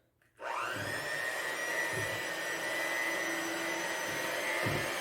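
An electric hand mixer whirs steadily through red velvet cake batter, starting abruptly after a brief silence and holding a continuous motor drone with occasional low thumps as the beaters knock the bowl.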